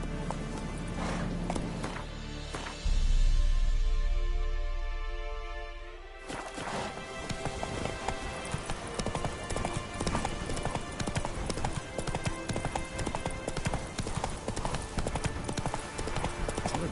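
Horse hooves clip-clop at a steady gallop in The Witcher 3 video game, loud and continuous, with a heavy thud near the start and dense game sound and music layered over the hoofbeats.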